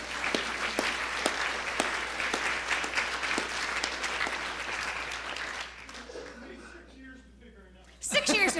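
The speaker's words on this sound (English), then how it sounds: "Can we applaud?" An audience claps warmly at a presbytery meeting, a dense burst of applause that fades out after about six seconds, leaving a brief quiet before a voice starts up at the end.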